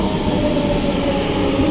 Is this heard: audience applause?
no